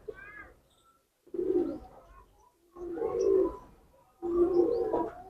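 A yellow Lalsara pigeon coos in three or four low, throaty bursts separated by short pauses, close by and fairly loud, with faint chirps from other birds in the background.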